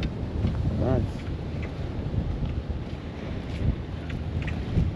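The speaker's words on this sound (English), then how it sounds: "As you can see, them big waves out here coming in." Big ocean waves roll in around the Daytona Beach pier in Florida, a broad rushing surf mixed with gusty wind buffeting the microphone, with a brief voice partway through.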